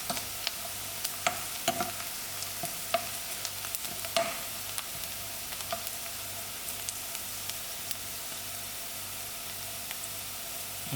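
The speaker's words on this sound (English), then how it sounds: "So we're going to fry out our onions" Onions browning with cumin in a frying pan make a constant hiss and sizzle, broken by scattered scraping taps of a stirring spoon, close by and with no voices.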